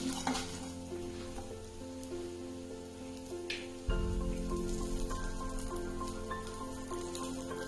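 Garlic frying in a pan for a spinach and fenugreek leaf chutney with asafoetida gives a quiet sizzle that jumps to a louder, fuller crackle partway through as it hits the oil, with a brief scrape of stirring.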